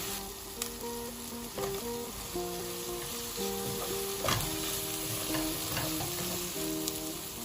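Food frying in a pan with lemongrass before tomato puree goes in, a steady close sizzle with occasional stirring clatter, no voices.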